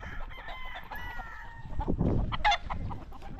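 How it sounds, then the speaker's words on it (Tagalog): Chickens on a Philippine farm cluck and a rooster crows, harmonic calls rising over rustling background noise, fairly close and fairly loud. "Madayang manok oh."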